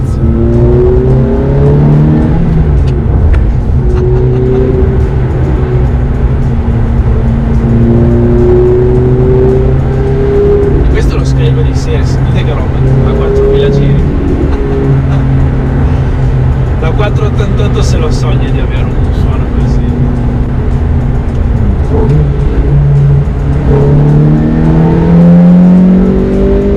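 Ferrari F430 with a six-speed manual gearbox driving hard, the engine repeatedly climbing through the revs and dropping between gear changes with faint metallic clicks at the shifts, loud and close from inside, with someone talking over it.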